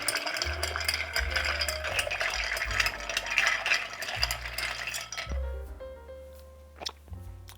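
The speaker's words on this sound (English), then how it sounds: "And give it a good stir." A bar spoon stirs a chilled gin-style aperitif cocktail in a mixing glass, making a continuous close clinking and swirling of ice that stops abruptly toward the end, leaving a faint low hum and a tick.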